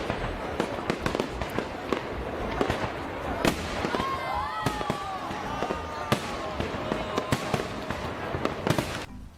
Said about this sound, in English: This is the fireworks show for Lunar New Year.